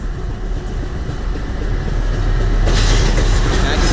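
An eastbound CPKC freight train rolls under the MacLennan Avenue footbridge, a loud close rumble and rhythmic wheel clatter that swells as it passes, with a sharp brighter rush near the end.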